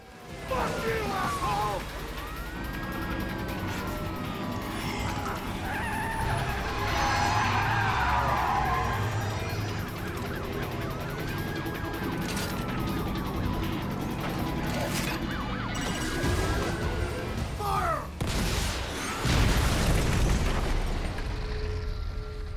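A car in Metal Gear Rising: Revengeance skids with tyre screech, then crashes with a loud boom and impact near the end, all over game music and a siren-like wail.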